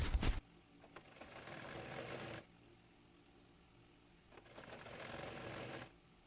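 A sewing machine stitches a second seam along a double-folded maikhata sleeve, running in two steady bursts of mechanical whirring separated by a quiet pause, close and alone.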